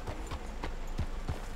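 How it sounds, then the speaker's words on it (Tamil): Horse hooves clip-clop at a steady trot in Red Dead Redemption 2, several distinct thuds spaced evenly over a constant low game ambience, no talk. "குதிரை"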